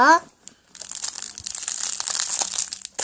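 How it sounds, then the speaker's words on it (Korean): A surprise egg toy's plastic wrapper is torn open and crinkled close up, a dense crackling rustle lasting a couple of seconds after a short voice at the start. "엄마가 한번 뜯어볼게요"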